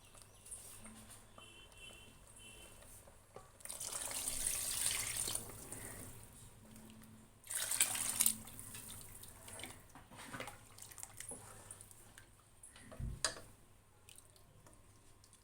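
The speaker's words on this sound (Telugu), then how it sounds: "ఇందులో చింతపండు రసం పోసుకుందాం." Tamarind juice pours into a pot of simmering sambar of cooked lentils and vegetables, two splashy bursts of liquid rising over steady kitchen background noise, close by and moderately loud.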